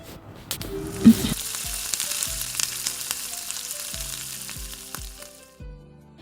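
Tomatoes frying with green chilies in a pan for a spicy potato sabzi, a close steady sizzle broken by a few brief scrapes and knocks, no talking.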